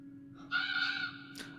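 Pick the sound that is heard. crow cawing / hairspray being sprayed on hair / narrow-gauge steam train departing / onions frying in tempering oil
crow cawing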